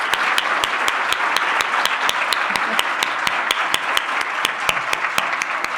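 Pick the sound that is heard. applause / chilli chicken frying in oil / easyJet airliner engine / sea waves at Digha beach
applause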